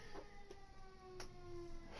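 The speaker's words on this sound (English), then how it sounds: "That's a siren." A faint siren wail with rising and falling tones rings out at a distance, several steady pitched lines holding over a noisy background for the full two seconds, with no talking.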